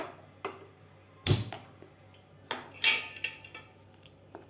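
A gas stove is switched on in a home kitchen while a masala dahi bhindi (spiced yogurt okra) dish is being cooked, giving sharp metallic clicks and clatters in a few separate bursts, close and fairly loud, with no talking.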